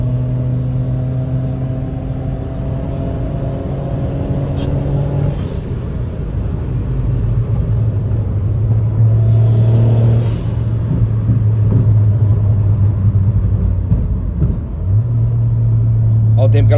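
A Volkswagen up 1.0 TSI with a stage 2 tune and hybrid water pump revs under driving load, its engine drone rising and dropping as speed changes, loud and steady from inside the car.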